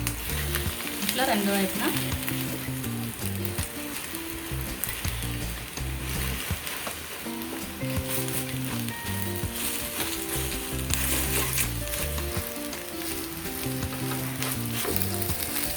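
Eggs fry in a pan for a fluffy breakfast roast, giving a loud, steady sizzle that runs throughout under brief speech.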